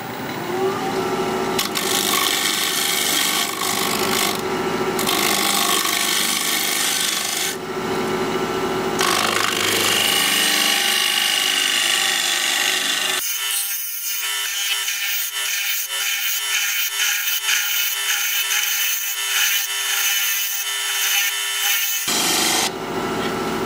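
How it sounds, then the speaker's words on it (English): A tool shear scrapes a Siberian elm bowl spinning on a wood lathe, a continuous close rasping, rubbing hiss that shifts in tone as the cut changes, with no talk. "I'm gonna shear scrape this side here a little bit"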